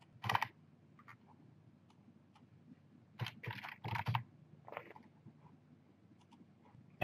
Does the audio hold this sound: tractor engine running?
no